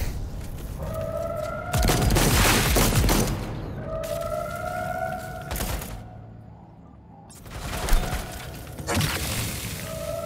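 Bursts of gunfire in Cyberpunk 2077 on very hard difficulty come as several loud volleys separated by brief lulls, with booms and electronic tones mixed into the combat.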